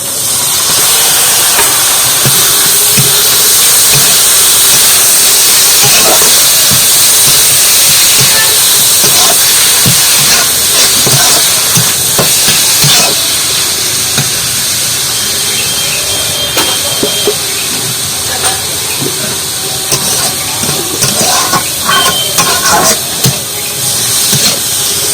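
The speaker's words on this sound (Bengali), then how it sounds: "এগুলো ভালো করে ভেজে নেবো একটু" Chilli powder, cumin powder and grated pumpkin fry in a pan. A loud, steady hiss of sizzling runs throughout, with scattered clicks and pops.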